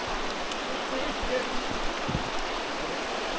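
A stream rushes beside a via ferrata climbing route on the Manderscheid castle trail, giving a continuous, fairly loud broadband hiss and roar with a few soft thumps.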